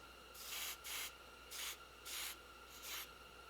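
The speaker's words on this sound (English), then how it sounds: "we're just going to take some hairspray, I guess, and spray it in the tube" Hairspray sprayed from an aerosol can into a rubber grip tube: five short hissing bursts, each about a quarter to half second long, close and fairly loud, separated by brief pauses.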